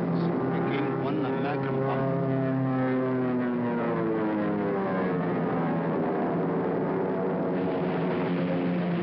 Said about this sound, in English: was a Japanese plane which came down.